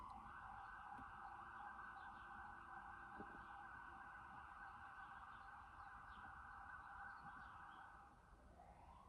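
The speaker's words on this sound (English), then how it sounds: "There's an ambulance going by." A loud, steady ambulance siren wails continuously from start to finish, holding one tone before shifting and fading slightly as it passes.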